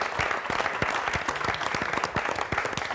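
An audience applauds at a live event, with dense overlapping claps that hold steady and close for the whole stretch, plus faint crowd murmur.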